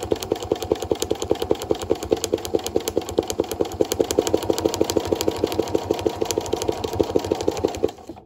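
A domestic sewing machine runs at raised speed for free-motion quilting on a padded festive ball ornament, giving a fast, even mechanical rattle of needle strokes up close that stops abruptly at the end, with no voice.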